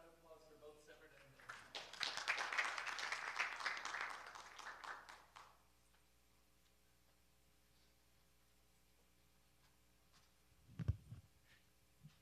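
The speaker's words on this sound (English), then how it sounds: "Let's have another round of applause" A conference audience breaks into a short burst of applause that builds quickly, holds for a few seconds and then cuts off, leaving near-silence before a single louder knock or tap.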